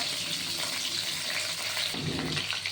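Continuous, loud hiss of small young carp (chara pona) frying in oil, a broad steady sizzle that shifts slightly near the end with a low clatter.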